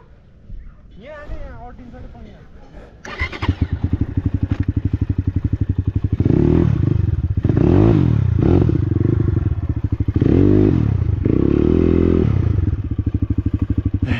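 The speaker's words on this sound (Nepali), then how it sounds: "भुइँमै हालिदिउँ बाइकलाई" A running motorcycle is laid down on the ground, with a clatter and scrape under its steady idling engine while voices talk nearby.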